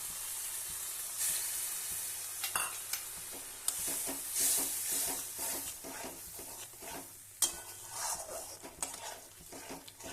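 Cauliflower with spices and a little water is stirred in a pan for a cauliflower roast, with repeated scraping and clinking of a spoon against metal over a soft sizzle and a few louder knocks.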